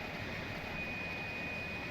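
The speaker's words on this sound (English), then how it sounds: "this engine start will be for Pratt and Whitneys" A Pratt and Whitney jet engine on an Airbus A300 spinning up during start in a flight simulator, a steady, fairly quiet whine and rumble with no talk.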